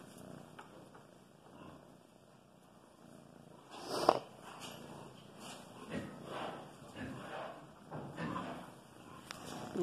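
A barn cat purrs close by in a steady low rumble, with soft shuffling and a sharp bump partway through, and someone speaks gently over it.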